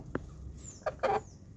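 Kadaknath chickens on a small backyard farm give a few short, quiet clucks and calls, spaced apart against a faint, otherwise still background.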